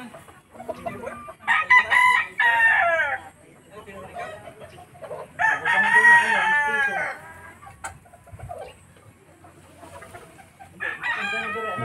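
Texas gamefowl roosters on a farm crow loudly and repeatedly in long, rising calls, with softer clucking between the crows and occasional talking in the background.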